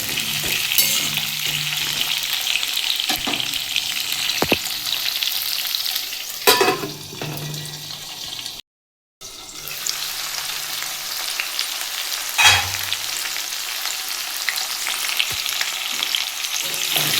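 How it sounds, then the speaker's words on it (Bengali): Potatoes and tomatoes sizzle steadily in a pan while a spatula stirs them, with scraping strokes and occasional louder clatters across a long stretch of frying and a brief dropout in the middle. "আমি এর মধ্যে আলু আর টমেটো দিয়ে দিয়েছি। একটু ভালো করে ভেজে নেব।"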